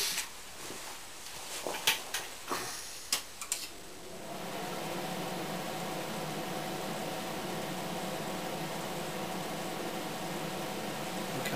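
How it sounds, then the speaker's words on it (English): A welder starts up for a test weld: a few sharp clicks and ticks, then from about four seconds a steady loud buzzing hiss that holds evenly to the end, with no talk. "I'm going to now fire up the welder"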